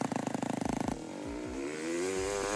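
A trial motorcycle engine fires in a fast, clattering burst, then revs up with a rising whine and short sharp throttle blips, loud and close.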